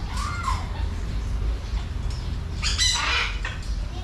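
Loud, harsh parrot squawks ring out near the end over a noisy outdoor background with faint voices, at a roadside rest stop in Cambodia.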